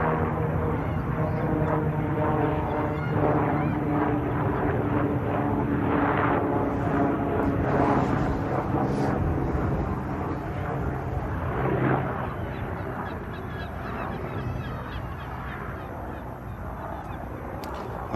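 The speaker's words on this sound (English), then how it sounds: "There's the helicopter." A private helicopter flying near an airport, a steady distant engine and rotor drone sustained throughout under outdoor ambience.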